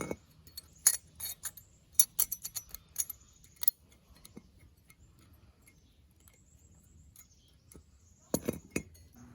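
New metal brake shims on an Acura TSX brake job are snapped into place, giving a series of light, sharp metallic clicks and clinks, close and quiet, clustered early with another cluster near the end.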